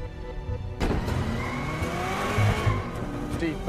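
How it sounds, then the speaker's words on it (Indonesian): A car driven into a wall in a film scene: a sudden loud surge of engine roar and tyre screech after a quieter opening, with narration talking over it. "lalu menabrakkan mobil ke dinding hingga menewaskan agen tersebut"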